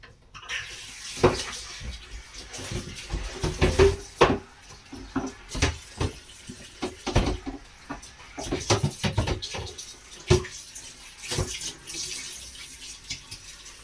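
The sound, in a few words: washing up dishes under running kitchen tap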